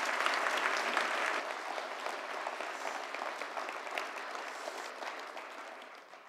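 An audience gives a warm round of applause for Si Bellamy at an Eden Project evening event, a dense, steady patter of many hands that starts strong and slowly tapers off.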